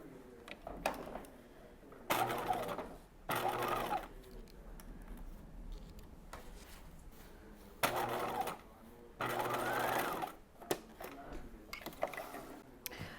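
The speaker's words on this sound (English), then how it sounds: "All right, we're going to baste this in place." A sewing machine bastes a bodice seam in short, quiet bursts of rapid stitching separated by pauses with faint handling noises.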